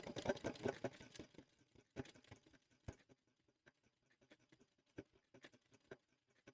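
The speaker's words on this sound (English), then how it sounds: "Get it under the needle. And then sew." A domestic sewing machine stitches through fabric in short, uneven bursts of rapid mechanical clatter, up close, with brief pauses between runs and no talking.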